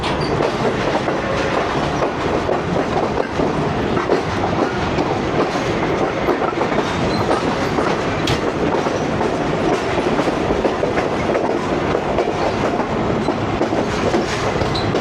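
Tezgam 8DN passenger train running on rails between Rawalpindi and Lahore, heard from inside an old AC sleeper coach: a steady, loud rumble with continuous clickety-clack of wheels over rail joints and no talking.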